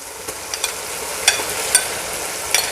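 Beef liver pieces sizzle in a pan of nearly fried tomatoes, a steady close frying hiss broken by a few sharp clicks of stirring.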